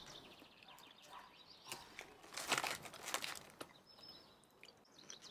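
A bag of Indian chips gives off scattered crinkles, with a louder crackling burst in the middle against a quiet background.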